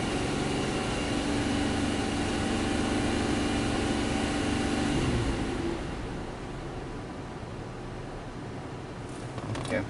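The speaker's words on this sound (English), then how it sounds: "Okay, so this is a cylinder that's dropping down. Let's rev it up a little bit. It's a little choppy." A 2005 Cadillac CTS engine with a misfiring cylinder (P0306) runs close by in a steady, rough drone, revved for a while before settling back to a quieter, softer hum.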